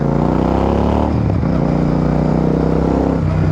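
Royal Enfield Super Meteor 650 cruiser motorcycle braking hard on a test ride, its loud close engine note dropping in pitch as it slows, with rumbling exhaust and wind.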